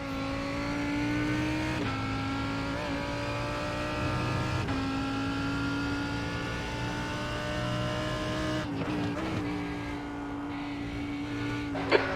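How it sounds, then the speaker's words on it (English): GTE race cars in iRacing at Imola, a continuous close engine drone with shifting gear tones and revving, steady and sustained with no talk over it. "And here come the GTE cars."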